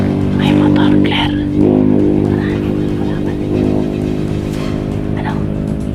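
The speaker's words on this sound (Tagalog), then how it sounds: "May motor, Claire." Motorcycle engine hums steadily nearby with a low harmonic drone, while people talk over it and a dog briefly barks.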